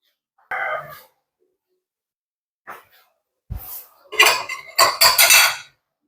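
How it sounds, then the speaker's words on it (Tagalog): Dry ceramic plates clink and clatter as they are set into a dish rack one after another, a few sharp knocks and scrapes in bursts, close by. "ilagay na natin ang mga tuyong pinggan dito sa tauban"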